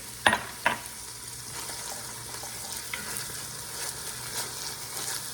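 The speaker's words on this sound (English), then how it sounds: "Onions are fairly well translucent. I'm going to add my 4 cloves of garlic." Garlic cloves and translucent onions sautéing in a pan for pork green chile, a soft steady sizzle with two sharp clinks near the start and light stirring scrapes throughout.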